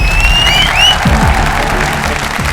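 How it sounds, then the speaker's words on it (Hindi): Dancers at a Happy Circus dance performance on a Hindi TV show draw sustained, dense audience applause with a brief whistle, loud and steady for the whole stretch. "तो हमारे डांसर्स के लिए एक बार फिर तालियां।"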